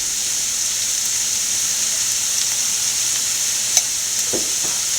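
Broccoli with grated coconut, turmeric and salt being stirred in a frying pan, a steady close sizzle with a couple of soft spatula knocks near the end and no talk.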